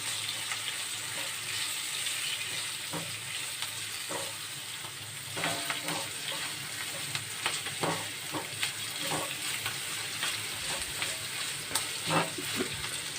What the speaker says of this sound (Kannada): ಮೆಂತ್ಯ ಸೊಪ್ಪು ಸೇರಿಸ್ಬಿಟ್ಟು ಈ ಥರ ಮಿಕ್ಸ್ ಮಾಡ್ಕೊಳ್ಳಿ